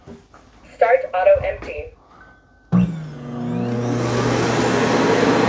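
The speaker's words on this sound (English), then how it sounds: "It's not very loud when it auto empties either." A short chirpy electronic beep is followed by a loud whooshing suction roar as the auto-empty dock motor of a Dreametech L10S Ultra robot vacuum kicks in and runs steadily.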